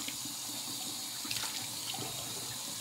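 Warm water runs steadily from a tap into a sink, a continuous close splashing flow with slight fluctuations and no talking.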